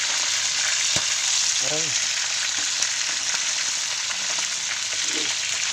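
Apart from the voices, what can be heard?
food frying in hot oil, oil splattering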